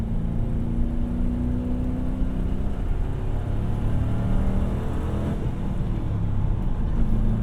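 A Ford Crown Victoria with a manual swap drives along with a continuous, fairly loud engine drone and road roar from inside the car, the pitch shifting gently as the revs hang and change.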